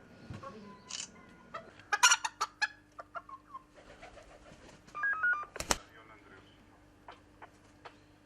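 Scattered clucks and short bird calls from a rooster and chickens, irregular and moderately close, with a louder burst of clucking midway and quieter calls trailing off.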